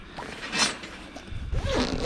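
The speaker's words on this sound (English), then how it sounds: "Zip up that side." A zipper is pulled along the side of a portable dog kennel, with a brief scratchy run followed by a longer, louder zipping stretch close by, with no talk.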